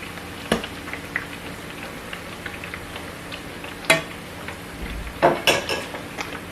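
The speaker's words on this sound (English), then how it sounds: "I'm going to give my plantain a stir" A spoon stirs frying plantain in a cooking pot, producing occasional sharp metallic scrapes and knocks over a steady sizzling hiss, with a few louder clanks near the end.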